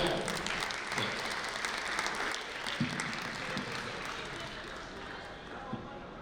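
A business networking gathering breaks into steady, full applause for an honored guest, a dense wash of clapping that holds for several seconds with murmuring voices underneath.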